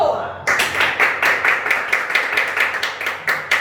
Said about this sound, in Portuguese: eu quero que vocês recebam com uma forte salva de palmas o teólogo Reinald Lisboa